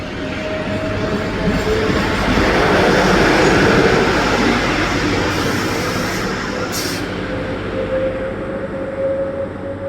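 A moving train rumbles continuously, swelling louder over the first few seconds and then easing off, with a faint hiss of wheels on track.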